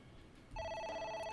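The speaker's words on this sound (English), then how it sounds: "It won't stop ringing." A telephone rings in the video game AI: The Somnium Files, starting about halfway through with a sustained, steady electronic trill over quiet background ambience.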